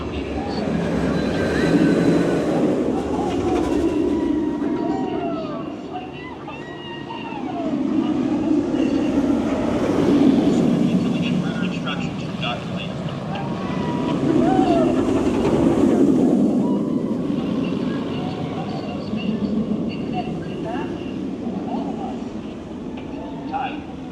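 The Rapterra wing coaster at Kings Dominion runs with a rumbling, rising and falling roar in three long swells, while people in the park talk and shout over it.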